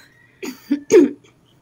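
A short phlegm-clearing of the throat, three rough, phlegmy pulses close together, then quiet, recorded up close with no talking.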